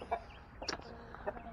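Backyard hens cluck softly near a nest, giving a few short, close clucks spread over a moment. The sound is fairly quiet and no one speaks.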